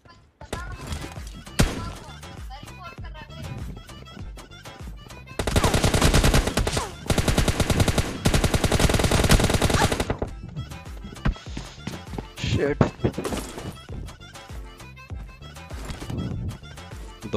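Rapid automatic gunfire from a mobile shooter game team deathmatch fight rattles loudly in a dense burst mid-clip, with scattered single shots and game effects before and after.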